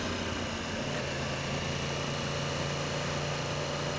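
A 2015 Yamaha R1 motorcycle engine idles nearby with a steady, even hum and faint mechanical rattle, holding constant throughout with no one speaking.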